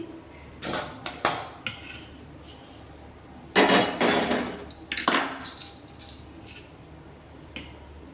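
A metal spatula knocks and scrapes against a pan of semolina pulao, producing several sharp clanking bursts in clusters, near and clear, separated by quieter gaps with no talk.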